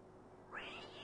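A cartoon cat in the PlayStation game Mulan gives a single short, quiet meow of protest as it is scrubbed with a sponge, heard alone without talk.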